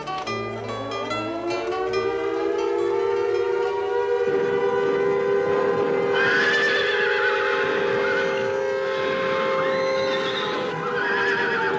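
Horses whinny loudly and repeatedly in a long, overlapping series of high neighs, with busy commotion underneath.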